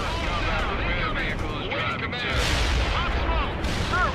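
Artillery fire support barrage in the World in Conflict video game: repeated distant booming impacts and crackling detonations blend into a continuous rumble, with speech and radio chatter layered over the top.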